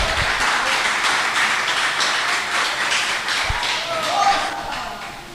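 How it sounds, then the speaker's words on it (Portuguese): A church congregation applauds during a Portuguese-language sermon, a dense, steady wash of many hands clapping together, loud and close throughout with a few deeper thumps mixed in. "Pode aplaudir se você quiser, fique à vontade."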